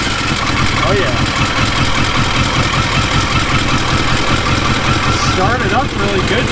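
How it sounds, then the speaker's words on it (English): Yamaha XJ650 Turbo motorcycle engine idling as it warms up after a choke start, a loud, steady, close rumble with an even pulsing beat throughout. "It actually started up easy with the choke on. I'm gonna just turn the choke off now. Halfway off, let it warm up a little bit."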